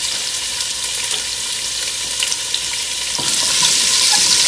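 Carrots, onion and celery sauté in a pan as the base for a homemade shrimp stock, producing a close, steady sizzle broken by stirring scrapes that grows louder and brighter in the last second.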